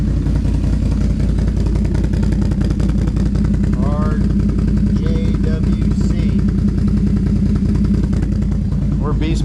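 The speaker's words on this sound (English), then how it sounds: "This exhaust sounds good." A Can-Am Outlander ATV engine runs at a steady, loud, close idle after a spark plug and plug wire change, its exhaust chugging and rattling continuously while people talk over it.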